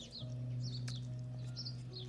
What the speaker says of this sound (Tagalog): Ito yung mga huni ng ibon.